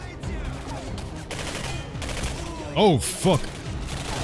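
Gunfire crackles quickly in Singularity on PC, with a short vocal outburst under the shots and two loud sweeping electronic tones near the end.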